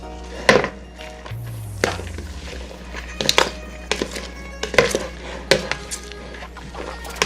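Momo filling being mixed with oil in a bowl, producing repeated loud clacks and scrapes of a utensil against the bowl in an uneven rhythm, close up, with a low hum underneath.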